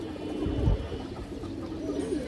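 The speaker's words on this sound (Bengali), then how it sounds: "একটা লাল খাকি মাদি কবুতর খুব সুন্দর একটা কবুতর" A red khaki female pigeon from a village flock coos softly, a low murmuring call rising briefly near the start over a faint background hum.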